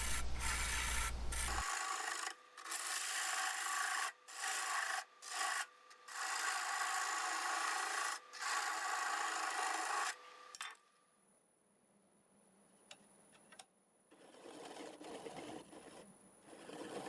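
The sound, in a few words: sanding black walnut wood turning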